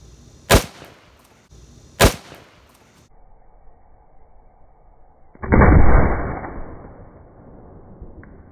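Two sharp, loud gunshots about a second and a half apart strike reactive bottle targets at an outdoor shooting setup, followed by a quieter stretch and then a longer burst of rushing noise.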